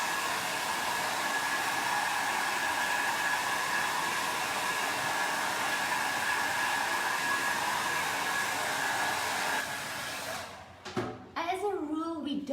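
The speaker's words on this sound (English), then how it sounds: "Don't recommend to blow dry or add heat to a Vaseline technique, but mine was almost dry, and I just want to help the process." A hair dryer blows steadily and loudly on a photo frame painted with a Vaseline technique, a continuous close whoosh that cuts off near the end, followed by brief handling noises.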